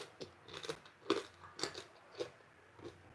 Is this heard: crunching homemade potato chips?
yes